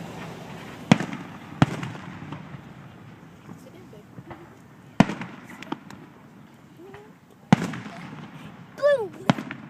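Fireworks exploding in Dayton, Indiana: scattered sharp bangs and pops, a few loud near cracks and a whistling one, spread irregularly over the stretch with people talking in the background.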